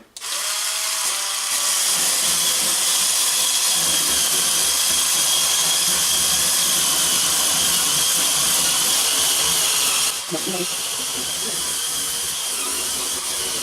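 A Turbo Scrub cordless scrub brush spins at 400 RPM against a kitchen hob, giving a steady loud high-pitched motor whine with brushing hiss that dips briefly near the end and then continues.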